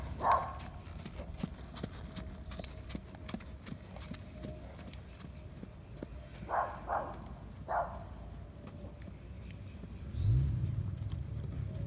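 An Andalusian horse's hooves thud through a short gallop, a few scattered beats rising above a steady background hum, with a louder burst near the end.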